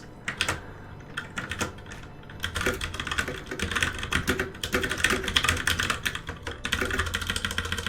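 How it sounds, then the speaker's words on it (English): Fingers type on a computer keyboard in quick irregular bursts of crisp clicks and clacks, with short pauses between runs, close up and alone without speech. "Oh, and when I type on the keyboard,"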